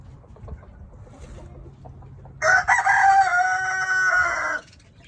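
A rooster on a farm crows once, loud and close, a drawn-out cock-a-doodle-doo lasting about two seconds over quiet outdoor background.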